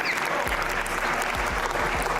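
An audience claps in a short burst of dense, steady applause lasting a couple of seconds, moderately loud and close.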